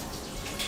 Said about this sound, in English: Let me just give you a quick wash of my hands